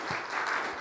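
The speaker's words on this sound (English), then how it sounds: "give them a round of applause" Audience applause for the mobile apps team at a product presentation, a faint continuous wash of clapping from a room crowd, short and distant.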